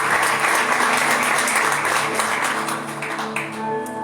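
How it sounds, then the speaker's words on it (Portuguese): A church congregation gives a round of applause to the Lord during a Portuguese-language worship service, loud, dense clapping that tapers slightly toward the end as a tonal sound enters. "dê uma salva de palmas ao Senhor"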